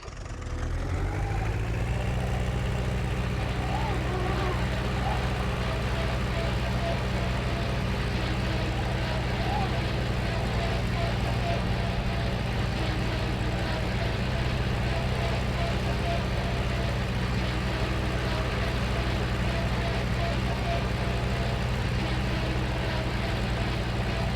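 A tractor engine in Farming Simulator 19 rises from start-up into a steady, loud drone that holds evenly throughout, with a voice talking over it.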